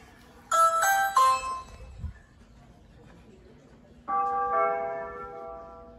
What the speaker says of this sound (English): It's gonna ring the doorbell in the house